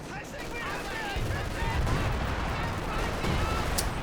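Long-range artillery fire in the video game Company of Heroes 2, a dense, continuous barrage of booms and crackling gunfire rumbling low and steady throughout a multiplayer battle.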